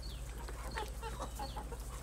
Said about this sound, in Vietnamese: các bạn có thể ngắm nhìn cái đàn gà của nhà mình